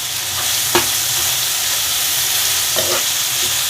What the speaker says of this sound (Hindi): काजू को भी इसमें डाल करके चलाएंगे।